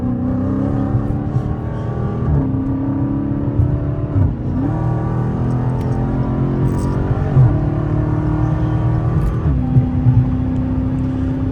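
Mopar car in track drive mode accelerating hard, a loud, close interior engine roar that climbs through the gears with brief dips at each shift, heard continuously.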